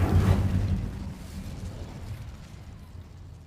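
Incendio fire spell cast in the video game Hogwarts Legacy, a loud fiery whoosh and burst at the start that rumbles and fades away over a few seconds, no talking.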